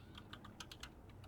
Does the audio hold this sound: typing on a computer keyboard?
yes